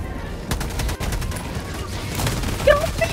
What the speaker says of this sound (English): I just shot you by accident